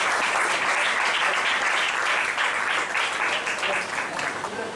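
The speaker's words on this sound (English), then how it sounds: "Let's have a huge round of applause." Sustained applause from a large audience at a Kuchipudi dance event, steady crackling clapping that holds loud throughout and tapers slightly at the end.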